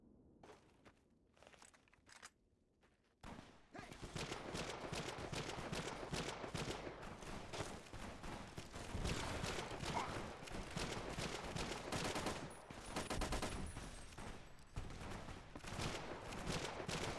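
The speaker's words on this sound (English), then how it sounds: "You hear that? Fucking gunfire." Gunfire in the video game Fallout: New Vegas, a dense, continuous crackle of rapid shots starting after a few quiet seconds and continuing, fairly distant, to the end.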